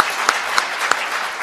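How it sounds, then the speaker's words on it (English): Audience applauding a discussion panel at an autism society event in Newfoundland and Labrador, a steady wash of clapping from a room of people with a few sharper individual claps standing out. "Maybe a round of applause for our panel"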